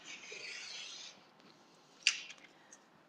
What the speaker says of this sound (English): trimming up, just squaring up my first edge